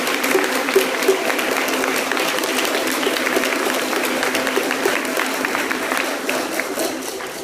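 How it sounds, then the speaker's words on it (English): Loud, steady applause from a live conference audience fills the room, dense clapping sustained throughout with a few cheers rising above it. "You all deserve a huge round of applause, so let's make it really loud."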